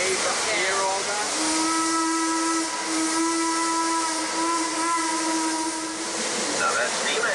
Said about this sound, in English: That is a two-truck, 37-ton Heisler steam locomotive.